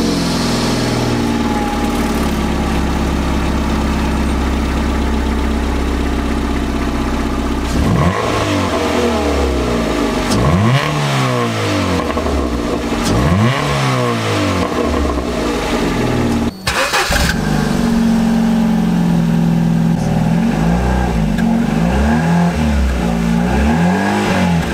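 A Ford Fiesta MK6 engine starts and idles through its exhaust, then revs repeatedly in loud rising and falling sweeps, close by, with no voices.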